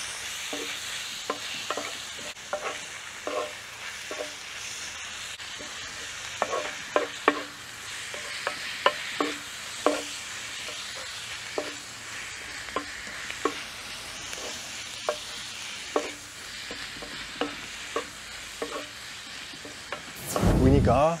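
Beans and onions with tomato paste frying in a Dutch oven, a steady sizzle under repeated sharp scraping and stirring clicks of a utensil against the pot, ending in a louder burst of hiss.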